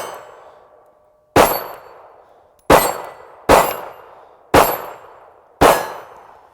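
Five sharp pistol shots ring out from a Ruger LCP II firing PMC Bronze ammunition, spaced about one second apart, each a loud crack with a ringing tail, outdoors.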